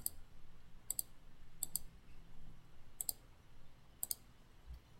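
Mouse clicks at a computer while working in Revit 2019 software, five or so sharp, close single and double clicks spaced about a second apart over a quiet room hum.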